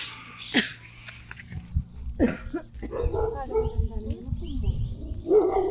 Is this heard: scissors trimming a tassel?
no